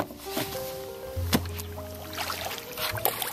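Paddling a Peregrine Talon kayak on open water, with paddle strokes and water sloshing around the hull close by, plus a few hollow knocks against the boat.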